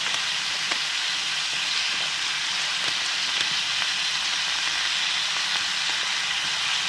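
Taro stolons sizzling in hot oil with turmeric powder for a Bengali prawn dish, a loud, steady frying hiss with faint occasional stirring clicks, continuous throughout and without talk.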